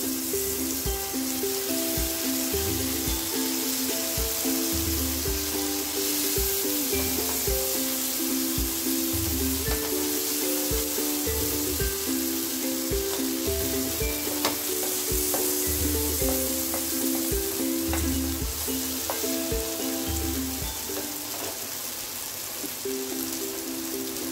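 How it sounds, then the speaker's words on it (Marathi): Marinated paneer sizzling in butter on a flat pan, a steady close frying hiss with crackles running throughout, alone with no talk. "आता आपण एका पॅन वर थोडंसं बटर टाकून घेऊया आणि त्यावर हे मॅरिनेट केलेले पनीर"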